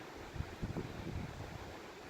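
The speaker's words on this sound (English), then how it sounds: "It's very, very windy today" Strong wind blowing outdoors, a steady broadband rush with gusty low buffeting thumps against the microphone, loud and continuous with no talk.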